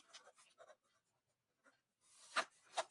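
A pen scratches across paper in short bursts while accounts entries are written out, quiet and close, with a louder pair of strokes near the end.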